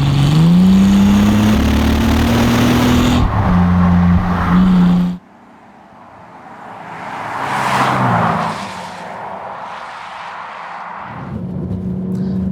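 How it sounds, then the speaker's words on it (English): A Bentley Continental GT driven hard on a difficult test road, a loud engine note rising as it accelerates, then cutting off abruptly before a quieter passing rush and renewed engine sound. "I'm going to put my foot down now."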